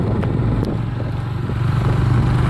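Motorcycle riding along a road toward Igaci in Alagoas, Brazil: a steady, close engine drone with a low rumbling hum and some clatter, continuous and loud throughout with no talk.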